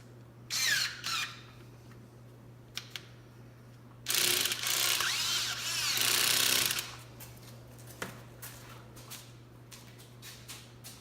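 Hose clamps being tightened on a K&N air intake on a Toyota FJ, with quick ratcheting bursts from a tool, a long whirring run in the middle, and scattered clicks and handling noises over a low hum.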